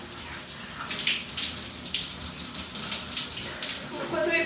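Water runs steadily from a tap while a homemade face mask is rinsed off, a continuous close splashing flow lasting several seconds.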